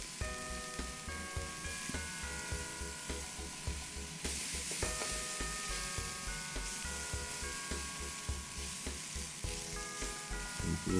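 Eggplant fries in a generous amount of oil in a hot pan with salt added, a continuous close sizzle and crackle with rhythmic stirring or tossing scrapes, while soft background music plays underneath.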